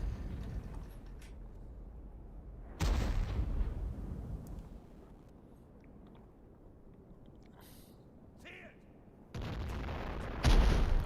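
Gunfire and artillery from friendly forces in the Total War 1942 game, heard as sudden heavy blasts and rumbling impacts at intervals over a continuous battlefield din.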